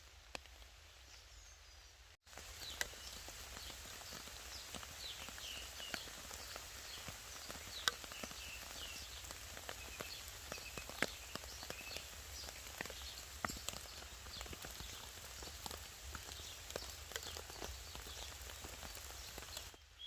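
Summer rain drizzling steadily on a tent during a storm, a soft, continuous patter with scattered sharper drops close by, running for most of the stretch after a brief quiet start.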